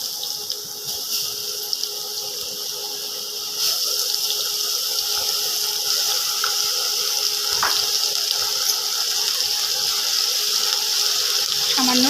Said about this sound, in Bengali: সামান্য জল দিয়ে দিলাম বন্ধুরা,